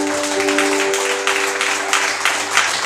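Church congregation applauds, a dense steady wash of many hands clapping from across the room, sustained for a few seconds with a faint hum underneath and no talking.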